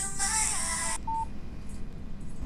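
A phone gives off a burst of loud electronic tones for about a second, followed by a single short beep, in a quiet room.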